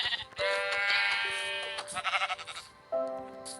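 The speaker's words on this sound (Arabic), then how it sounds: "يا كلاب في خروف هنا." Sheep in the video game Minecraft bleat several times in quick succession, wavering digital baa calls that sound close and moderately loud, with no talk over them.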